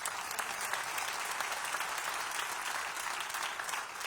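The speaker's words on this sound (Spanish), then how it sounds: "Dale un aplauso a Jesucristo." A church congregation applauds during a sermon, a steady, even burst of many hands clapping, moderately distant and continuous for several seconds.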